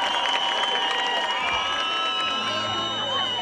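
Concert crowd at a rock show in Elazığ cheers, whoops and claps in a dense, steady roar with shrill voices rising above, loud and close throughout.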